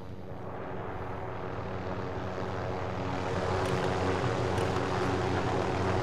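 Helicopter flying in the Call of Duty: Warzone video game, a steady loud rotor and engine drone that holds throughout and swells slightly toward the end, with no voices.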